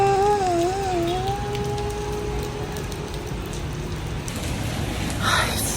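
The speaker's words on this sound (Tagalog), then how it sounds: "Kasi umuulan." Steady rain hiss fills the scene throughout, with a wavering tonal whine early on and scattered drops, no clear speech; rain falling during a motorcycle ride.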